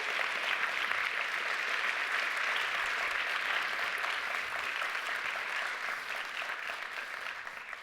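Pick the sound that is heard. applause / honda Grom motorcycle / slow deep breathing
applause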